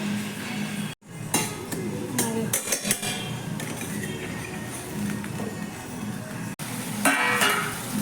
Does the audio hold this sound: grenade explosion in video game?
no